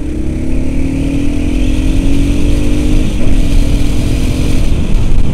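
A loud, close motorcycle engine drones steadily with rising pitch as it accelerates uphill, heavy rumble throughout, no voices.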